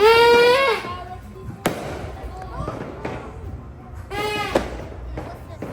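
Several dull booms and thumps of New Year fireworks go off at a distance in the sky, under excited voices talking and exclaiming nearby.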